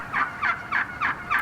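Wild turkeys gobbling in a turkey-hunting setting, five rapid rattling gobbles spaced evenly about every quarter second, each a bright warbling burst, loud and fairly near over a low background hum.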